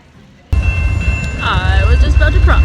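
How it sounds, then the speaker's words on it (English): A train passes a street crossing in Kamloops, starting with a sudden deep rumble that stays loud and close while a person talks over it. "It's a train."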